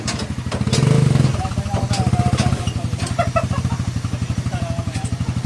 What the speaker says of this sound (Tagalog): Suzuki Raider